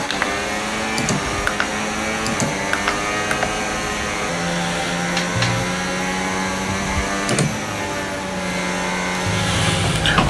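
Formula racing cars in the Braking Point game scream around the Zandvoort circuit, a close engine whining and shifting pitch through gear changes, with other cars buzzing nearby and brief mechanical clicks.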